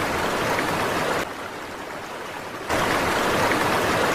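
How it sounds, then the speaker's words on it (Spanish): Flowing stream water at a night campsite, a continuous broadband rush that briefly drops in level before returning loud. "Y miren, agua."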